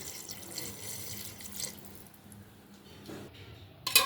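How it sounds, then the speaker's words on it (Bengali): Water poured from a vessel into a cooking pot of meat and potatoes, a soft steady trickling splash at low level, ending in a brief louder clatter. "তো আর একটু জল দিয়ে দিই"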